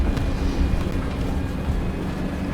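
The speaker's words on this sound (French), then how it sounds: "Mais là j'entends des moteurs là, donc il y a un ennemi devant." Low, steady rumble of enemy tank engines in a tank video game, a continuous drone with no speech over it.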